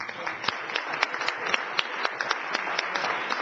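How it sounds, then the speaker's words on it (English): An audience at a school board business meeting gives a round of applause, a brisk, moderately dense patter of hand claps with a few sharper individual claps standing out, steady throughout and heard from a middle distance. "we want to give them a round of applause"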